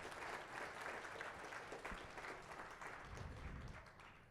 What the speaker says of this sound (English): so please give Freda a humongous round of applause because she deserves it.